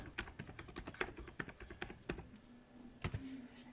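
Rapid keystrokes on a computer keyboard as a website password is entered, a quick run of close, crisp clicks followed by a pause and a couple of final taps.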